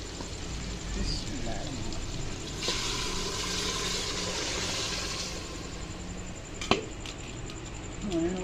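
Chicken stock (yakhni) pours steadily into a pot of browned chicken for Punjabi chicken pulao, a continuous splashing rush lasting several seconds at close range, ending with a brief clatter.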